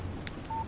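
A phone in Alan Wake Remastered gives a text message alert, a brief soft tap followed by a clean single electronic tone, quiet over a low ambient game background.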